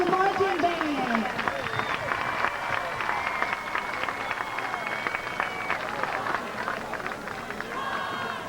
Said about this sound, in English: How about a big round of applause for the Breaux Bridge High School Marching Band?